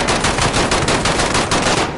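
Rapid automatic gunfire from Call of Duty Modern Warfare, a dense, loud, continuous stream of shots that runs the full two seconds with no pauses and no voices.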